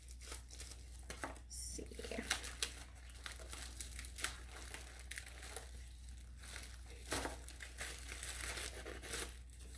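Paper packing material, like basket filler, crumples and crinkles continuously while an African violet plant from Lyndon Lyon is unboxed, a steady close rustling and tearing with no talk over a low hum.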